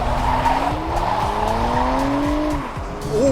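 A 2020 Toyota Camry TRD and a Honda Accord launch side by side in a drag race, engines roaring with pitch climbing through the gears over chirping, squealing tires, loud and close.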